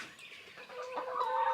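Chickens clucking in a backyard in Tennessee. A few close, mid-loud clucks and throaty calls come in short bursts, with no talking.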